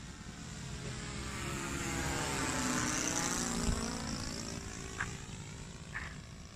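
Radio-controlled Kyosho Calmato 40-class airplane with a Saito FA72 four-stroke engine coming in to land, a steady engine drone that swells and passes with Doppler sweeps, then eases off.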